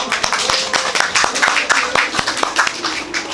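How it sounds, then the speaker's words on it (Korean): A small crowd at a memorial-site gathering claps for paratrooper and marine veterans, giving a short run of close, fairly loud hand claps with no talk over it. "이분들에게 우리가 뜨거운 박수 좀 보내주자"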